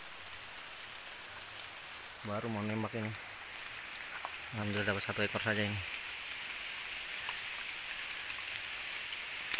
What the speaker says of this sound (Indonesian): Cuaca hujan lagi